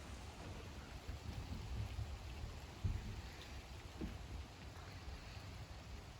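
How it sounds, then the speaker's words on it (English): Steady rain falls on a rainy day, a dense continuous hiss of drops hitting the ground and surfaces nearby, with a few louder thumps and low rumbles mixed in and no voices. "It's still raining. It's starting to rain."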